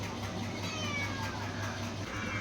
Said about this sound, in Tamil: பூனை பாருங்க எப்படா மீன் ஆயுவோன்னு காத்துக்கிட்டே இருக்கும் போல இது